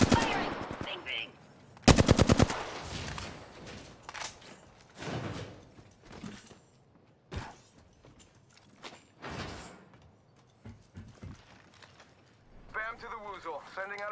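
Automatic gunfire from Apex Legends bursts in a rapid, loud volley, followed by scattered shots and game sound effects, with a player talking excitedly over the action.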